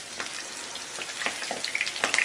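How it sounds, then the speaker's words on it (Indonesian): Tofu fries in hot oil, giving a steady sizzle with scattered crackles and pops that grow denser toward the end, close and alone without talking. "Kalau sudah panas, kita masukkan tahunya. Dan kita akan goreng sampai nanti warnanya kecoklatan"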